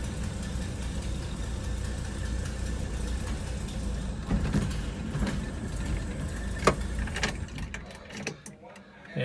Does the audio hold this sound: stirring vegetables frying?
no